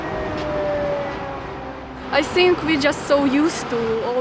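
Distant wailing air raid sirens drone in the background in Kharkiv while a voice talks over them, rising and falling in pitch.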